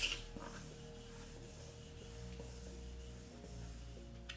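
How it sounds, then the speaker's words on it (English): Steady soft rubbing of sandpaper on a plastic car tail light lens for a custom 3000GT build, a continuous faint rasp with no talking. "When you are finished sanding,"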